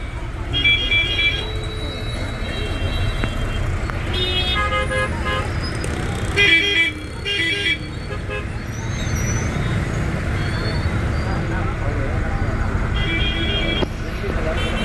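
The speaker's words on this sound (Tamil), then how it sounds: "சர்வீஸ் ரோடு கூட பாருங்கள் எவ்வளோ டிராஃபிக்காக இருக்குது." Dense traffic on the Bangalore–Chennai road and its service road, with cars and buses rumbling steadily close by and several car horns tooting throughout, along with a voice speaking now and then.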